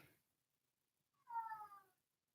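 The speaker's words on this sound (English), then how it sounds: "this poor cat wants to come out so bad" A single drawn-out meow from a cat, fairly quiet and heard alone after a short stretch of near silence, with no talking over it.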